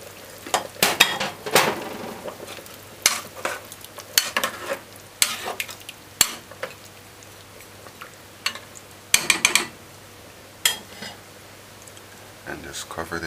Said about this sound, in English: we're gonna now add the broad beans.